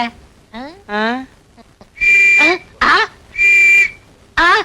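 Shrill whistle bursts, several short blasts with rising and falling pitch, loud and close, separated by brief pauses.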